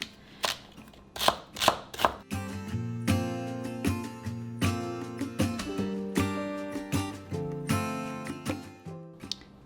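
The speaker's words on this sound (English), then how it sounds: "I'm gonna start by chopping up my vegetables. So I have 4 stalks of celery here." A knife chops through four celery stalks on a cutting board in a home kitchen, first a few separate strokes and then a long run of steady, close, crisp chops, with no talking.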